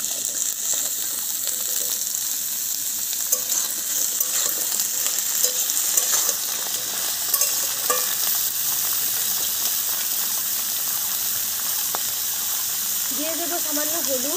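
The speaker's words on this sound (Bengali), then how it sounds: "এবার আমি কাঁচা কলাগুলো দিয়ে দিচ্ছি।" Raw plantains frying in a pan with potatoes, a steady close sizzle and hiss of hot oil with occasional stirring clatter running throughout, and a voice speaking briefly toward the end.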